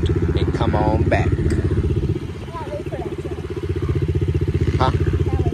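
A Yamaha TTR-110 dirt bike rides around a small circle of dirt on a pee wee track, its engine loud and close with a steady buzzing putter that dips briefly and then picks back up.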